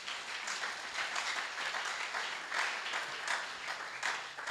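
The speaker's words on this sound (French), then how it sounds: "Est-ce qu'on ne peut pas acclamer pour cette parole?" A church congregation applauding, with dense, steady clapping from many hands that fills the room evenly and holds at moderate loudness without any speech over it.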